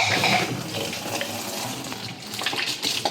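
Steady running water pours and splashes into a clogged washing machine drain, a continuous close gush with slight gurgling fluctuations and no voices.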